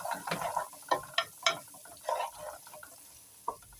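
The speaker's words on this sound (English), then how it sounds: "Immediately you put the garlic, you stir it." Garlic cloves stirred in a pot while starting butternut soup, giving a series of soft scraping and clinking knocks at an uneven pace, close and fairly quiet, with no talking.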